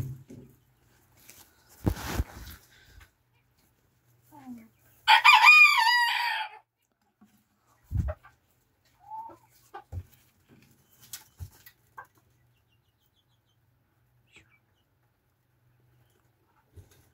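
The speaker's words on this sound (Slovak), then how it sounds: "Hranie sa s kohútom." A rooster crows once loudly and close, preceded and followed by scattered short clucks and soft rustling noises in an otherwise quiet setting.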